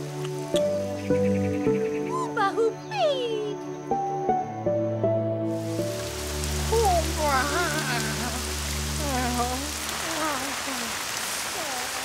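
Steady hiss of rain in a cartoon scene, starting partway through after a musical passage and continuing under voices that talk and call out over it.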